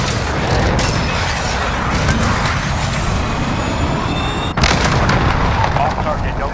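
A cruise missile strike in Call of Duty Modern Warfare lands as a sustained rumbling barrage of booms and heavy roar, loud and close, with a sharp blast partway through and faint radio voices underneath.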